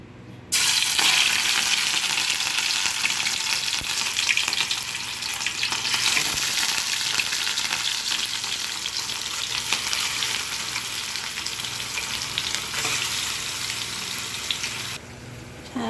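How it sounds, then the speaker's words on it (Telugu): Fish pieces dipped in turmeric sizzle loudly in hot oil, a steady, close crackling frying sound that runs almost the whole time with no talking, starting abruptly and cutting off near the end. "పసుపులో ముంచుకున్న చేపలన్నీ ఒక్కొక్కటిగా తీసి ఆయిల్లో వేసుకోవాలి"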